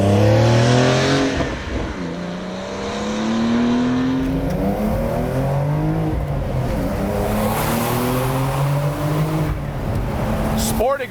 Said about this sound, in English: Sport exhaust echoing off the mountain.